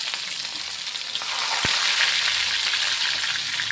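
Garlic dropped into hot oil with spluttering mustard seeds, cooked for a Tamil potato fry, gives a steady loud sizzle with a sharp pop partway through, no voices.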